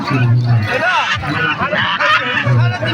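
Geese honk nearby with harsh, nasal calls at the Omarpur poultry market, mixed with a busy hubbub of people talking around them.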